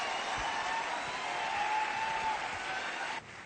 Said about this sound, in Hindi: मैं चाहूंगा कि आप जोरदार तालियों से स्वागत करें